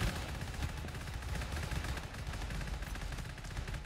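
Rapid, continuous gunfire from the Hell Pistol, a Glock with a 100-round magazine, in the video game GTFO, a dense stream of close, loud shots running the whole length.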